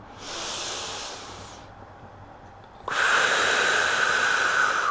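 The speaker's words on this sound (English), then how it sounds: "Big inhale, exhale." Deep Pilates breathing, one long airy inhale followed after a brief pause by a louder, forceful exhale, both close and breathy with no talking.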